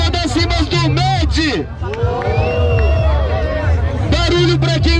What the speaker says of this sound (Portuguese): Barulho pra quem gostou das rimas do Med!